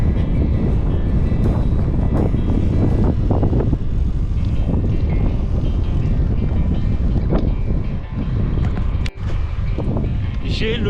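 Strong wind roars steadily against the microphone while riding a bicycle with a tailwind in France, a loud continuous rumble that fills the clip with brief dips near the end.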